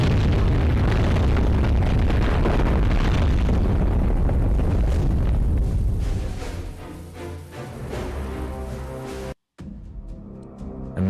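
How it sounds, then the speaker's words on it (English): A massive explosion tears through an apartment block in the video game Beholder, a loud rumbling roar that slowly decays into lingering debris noise before a brief cut to silence. "A massive explosion destroyed the whole apartment block."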